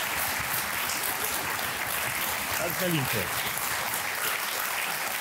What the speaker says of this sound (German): Vielen Dank für den sehr schönen Applaus.